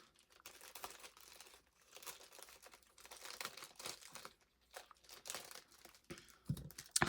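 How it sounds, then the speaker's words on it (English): Cellophane or plastic packaging around a set of thrifted cards crinkles and tears as it is cut open, with irregular rustling bursts at close range and no talking. "Let's cut this open."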